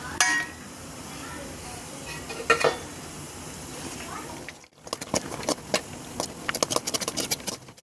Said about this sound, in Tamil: திராட்சையெல்லாம் நல்லா வறுத்துடுச்சு